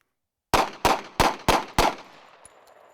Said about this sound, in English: We'll shoot these three at a kind of a self-defense distance here and see how it looks.